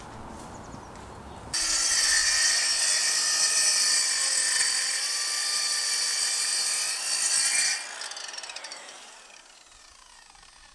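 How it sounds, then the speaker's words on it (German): A circular saw cuts through wood for a family bed build, a loud sustained high whine that starts abruptly and runs for several seconds before spinning down; no talking. "jetzt wird gesägt"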